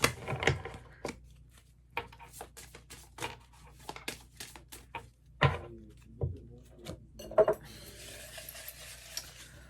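A deck of tarot-style reading cards shuffled by hand, giving a run of soft papery riffles and taps, close and fairly quiet, with no voice over it.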